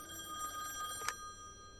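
A telephone rings in a business office in The Wolf Among Us game: a single bright electronic ring burst, fairly faint, over a quiet background hum.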